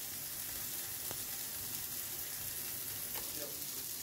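Minced beef steaks fry in a pan, making a steady, even sizzle with faint crackles, heard up close and fairly quiet, without any talking.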